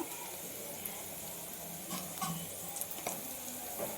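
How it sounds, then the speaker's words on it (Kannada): Turmeric, coriander powder and chilli powder fry in oil in a pan for beetroot palya, giving a faint continuous sizzle with a few small stirring clicks and scrapes. "ಚೆನ್ನಾಗಿ ಸ್ವಲ್ಪ ಫ್ರೈ ಮಾಡ್ಕೊಳ್ಳಿ."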